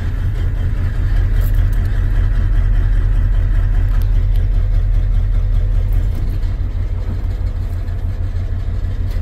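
A Ford F250 truck engine runs loud and close, a dense steady low rumble with a slight shift in tone partway through, heard from inside the cab with no talk over it.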